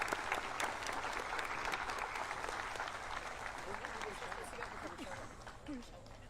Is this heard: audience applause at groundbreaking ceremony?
yes